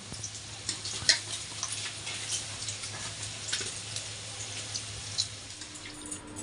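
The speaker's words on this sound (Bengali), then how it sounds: "সবজিগুলো আমি ধুয়ে নিচ্ছি" Vegetables get washed in a home kitchen, with faint, soft splashes and trickling water in scattered bursts over a low steady background hum.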